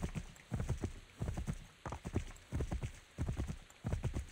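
Hooves of a horse in Assassin's Creed 3 Remastered beat out a steady, close clip-clop in repeated bursts of galloping strides, fairly loud and with no talk over them.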